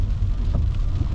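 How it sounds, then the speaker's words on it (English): Steady rain falls through a gusty overcast tropical storm in Rockport, Texas, with a dense low rumble that could be distant thunder running under the patter for the whole short stretch. "Cloudy, overcast, raining a lot."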